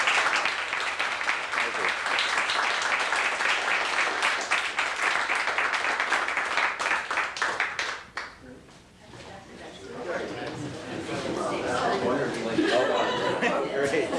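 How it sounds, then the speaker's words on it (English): An audience at a talk on the history of a survey research center breaks into dense, sustained applause mixed with chatter and chuckles, which fades briefly before murmured voices and laughter rise again. "applause."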